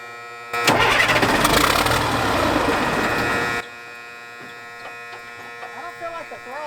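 An old car engine that had not run in over ten years cranks and catches with a loud, rough roar lasting about three seconds, then cuts off abruptly, followed by quieter voices talking.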